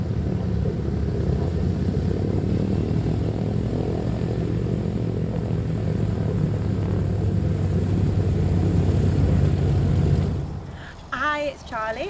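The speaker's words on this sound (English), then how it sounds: "what a super aircraft, of course, it's the Lancaster" Avro Lancaster bomber flying at a 1940s reenactment air show, a loud sustained multi-engine propeller drone that holds steady then drops away near the end, followed by a voice speaking.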